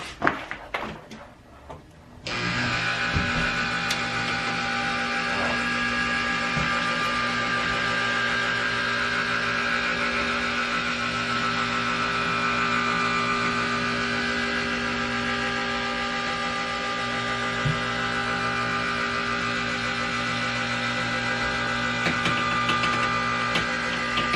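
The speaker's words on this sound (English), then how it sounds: "So I just plug in the motor." A plugged-in electric motor starts after a brief handling clatter and then runs steadily, a loud continuous hum with strong tonal whine that holds unchanged for the rest of the stretch.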